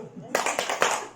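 A group of women doing a tepuk salut clapping routine, a short burst of three or four rhythmic claps in unison right after a voice, close and moderately loud.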